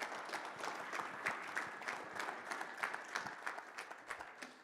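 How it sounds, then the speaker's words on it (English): Scattered, fairly sparse clapping from a modest audience at a safety kickoff meeting, individual claps audible as uneven bursts, moderately distant and fading slightly. "Round of applause for all the individuals that were brave enough to come up"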